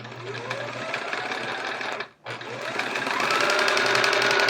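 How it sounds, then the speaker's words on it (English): A sewing machine running steadily while stitching a quarter-inch seam on a chevron quilt, a loud close whir with a brief pause in the middle before it resumes. "So I'm sewing on one side of that line, 1/4 inch."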